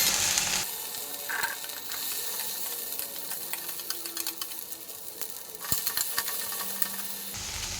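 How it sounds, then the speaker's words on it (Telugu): Cut okra pieces frying in hot oil with cumin and mustard seeds, a dense close sizzle with crackles and occasional spoon clinks and stirring scrapes, no voices. "ఇప్పుడు ఇందులోనే బెండకాయ ముక్కలు వేసేసుకోవాలి కట్ చేసుకున్న బెండకాయ వేసుకున్నాను"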